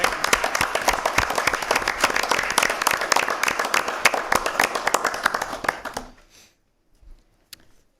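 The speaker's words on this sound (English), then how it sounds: "How about maybe just a round of applause for the committee?" Applause for a committee at a Hazleton Area school board meeting, a room of people clapping steadily for about six seconds before it abruptly dies away, followed by a few faint sounds in near silence.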